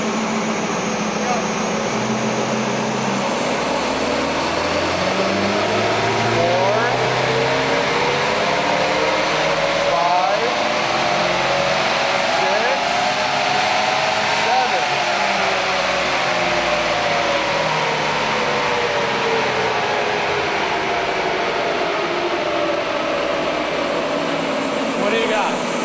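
A Mitsubishi Lancer Evolution X or new Subaru STi with its mufflers bypassed accelerates hard through the gears, the loud engine note climbing and dropping back at each shift in a continuous close roar.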